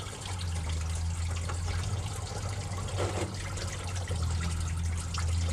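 Coolant water drains slowly from a 2009 Honda Pilot into a container, a continuous soft trickle and hiss over a low steady hum, faint and even throughout with no voices.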